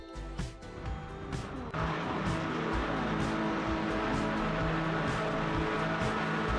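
A field of Porsche Cayman GT4 race cars in iRacing at the Red Bull Ring, engines revving and then surging loudly together as they pull away, a dense continuous roar with gear-change pulses.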